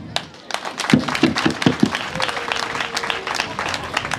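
Pupils and guests applaud at a school prize-giving ceremony, a rustling wave of clapping with a few short voiced calls mixed in near the start, continuing at moderate loudness.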